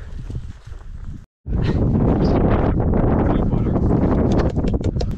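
Loud, steady wind buffeting the microphone in roaring gusts, briefly cutting out, with rustling and faint movement underneath.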